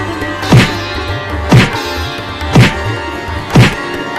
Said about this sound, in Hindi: रुको, मैं दरवाजे को तोड़ती हूँ।